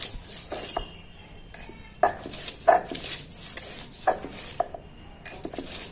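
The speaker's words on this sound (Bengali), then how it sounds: "দেখো একটু থেঁতো করে নিচ্ছি, বড় বড় আছে তো শিল খেয়ে বেরিয়ে যাবে।" Ginger being crushed on a stone grinding slab, a series of irregular knocks and scraping grinds at close range with no talking.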